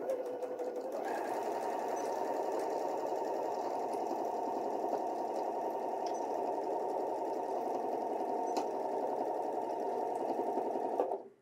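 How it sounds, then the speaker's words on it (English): A Janome computerized sewing machine stitches steadily forward and in reverse, its motor buzzing in a continuous, even whir for about ten seconds before stopping. "show me that you can sew in reverse by sewing forwards and backwards a couple of times"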